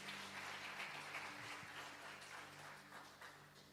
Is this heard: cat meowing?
no